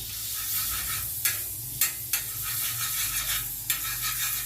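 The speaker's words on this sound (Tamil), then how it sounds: "இதில் கொஞ்சமாக பட்டர் போட்டுக்கோங்க. பட்டர் மெல்ட் ஆகட்டும்." Butter melts and sizzles on a hot dosa griddle over a stove, a steady close frying hiss punctuated by a few light metallic taps and scrapes of a utensil.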